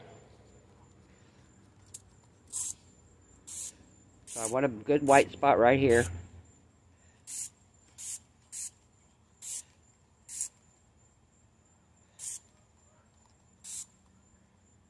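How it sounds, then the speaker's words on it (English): Short bursts of spray hiss repeatedly from a trigger bottle of cleaner sprayed onto a tumbler cup, about a dozen spaced pumps, with a person talking briefly in the middle. "I'm going to spray the cup with the power wash."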